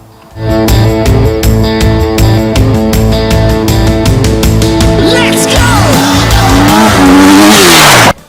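A 2018 Husqvarna 250 FE enduro motorcycle ridden hard on trail, its engine loud and close, revving through rapid gear changes and rising in pitch before a final high-pitched howl.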